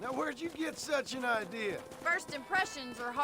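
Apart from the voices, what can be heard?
No distinct noise like a dog, phone or traffic.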